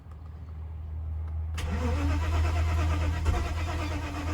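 Mazda RX-8 rotary engine cranking and catching, starting with a sudden loud rise partway through and then running rough and steady under low rumble, close by, with no talk.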